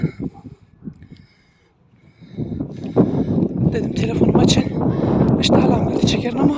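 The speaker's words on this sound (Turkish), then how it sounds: "Bayağı bir rüzgarlı hava, uğultu var." Wind roars and rushes steadily outdoors, buffeting the microphone after a quieter start with a few faint knocks.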